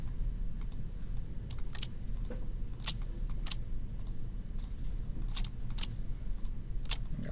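Sparse computer mouse and keyboard clicks while selecting polygon loops in 3D modeling software, scattered singly and in small bursts over a low steady room hum, with no talking.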